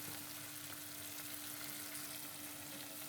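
Shrimp cooking in sizzling masala in a pan for a shrimp bhuna: a continuous, even frying hiss, faint and close, with a steady hum underneath and no talking.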